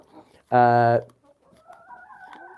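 Pet hens give a loud, harmonic squawk lasting about half a second, followed by softer clucks and calls in a backyard flock being fed.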